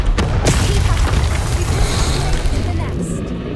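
Loud, sustained explosive roar of the Confringo fire spell in Hogwarts Legacy, one dense crackling boom that fills the soundscape and stays heavy with rumbling bursts throughout, with a player's voice faintly mixed in.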